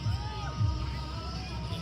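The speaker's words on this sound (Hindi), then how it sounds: "बहुत भीड़ भाड़ है भाई" A packed crowd mills around at the Etawah numaish fair, a low, continuous babble of many distant voices with a few nearer murmurs, heard faintly throughout.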